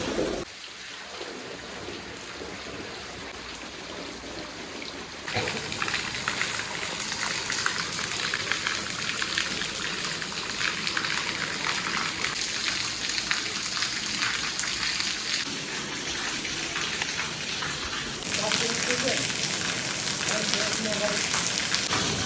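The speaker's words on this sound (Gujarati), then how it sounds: "જો વરસાદ કેવો છે, ખેતરમાં પાણી પાણી થઈ ગયું" Heavy monsoon rain pours down on a flooded farm field in Gujarat, a dense continuous hiss and roar that swells louder partway through, with a voice talking over it.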